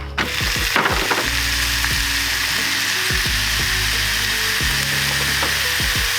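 Vegan beef mince fries loudly in a hot pan, a constant close hiss broken by scraping and clattering knocks from the pan and utensil, with no talking.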